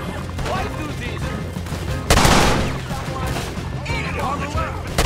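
Gunfire crackles through a Red Dead Redemption 2 shootout, loud and dense, with a heavier blast partway through, while shouting voices carry over it.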